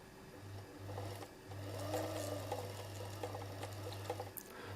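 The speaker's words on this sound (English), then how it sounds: "This is the lower part of a side-loaded zigzag vintage sewing machine." A vintage Singer 237 side-loaded zigzag sewing machine runs steadily, its motor humming in continuous bursts with a short pause near the start, close and fairly quiet, with mechanical clicking over the drone.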